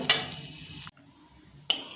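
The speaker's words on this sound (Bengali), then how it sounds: "এবার এই একই তেলের মধ্যে যে আমি ডালিয়া রেখেছি ডালিয়াটা ভেজে নেব অবশ্যই কিন্তু লো ফ্লেম করেই ভাজতে হবে" Broken wheat (dalia) fries in oil on a low flame, giving a steady hiss that cuts out briefly and then returns just as loud.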